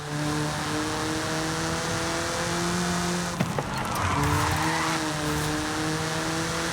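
Pre-production Bull 05RR track race car driven in Forza Horizon 5, its engine holding a loud, steady high drone that dips through a gear change, with a brief tire squeal midway.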